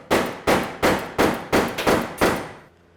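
Hammer blows on sheet metal in the pedal area of a Porsche 912 floor, seven sharp strikes in a steady rhythm, loud and close, with a brief ring after each hit.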